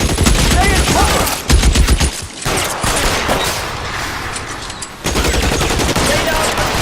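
Rapid bursts of automatic gunfire in the video game L.A. Noire, loud and dense throughout with brief lulls, mixed with shouting voices.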